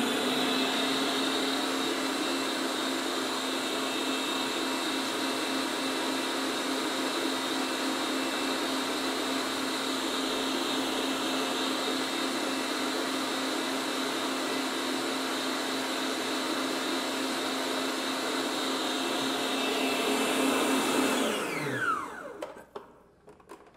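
An electric mixer beats cake batter for a Pernambuco-style bolo de rolo in a steady, loud, unbroken whir, then winds down and stops near the end.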